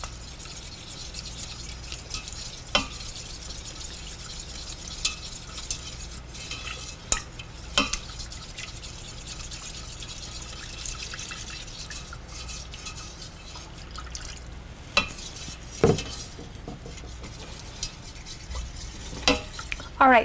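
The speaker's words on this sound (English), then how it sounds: "now we are slowly going to whisk in our milk" A whisk stirs and scrapes steadily through milk in a roux for beer cheese sauce, a soft wet swishing with occasional sharp clicks against the pan, close and quiet with no talking.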